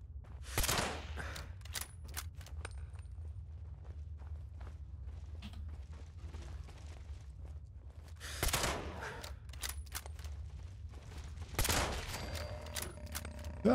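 Gunfire in the video game Fallout, played without HUD or VATS: a few sharp, loud shots separated by long gaps, each a sudden burst over a steady low ambient rumble and faint footstep-like clatter.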